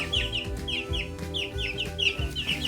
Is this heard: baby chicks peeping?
yes